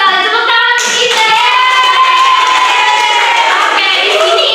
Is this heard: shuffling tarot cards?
no